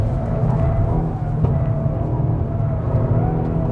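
A race car engine on a track drones steadily with a low, dense rumble, briefly dipping around a shift before holding a constant, close-miked roar throughout.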